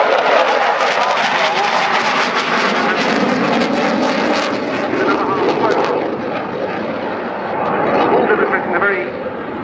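A Czech JAS 39C Gripen fighter jet flies a slow roll during an air display at RIAT 2024, its engine giving a loud, continuous roar that rises and falls slightly beneath a commentator's talk.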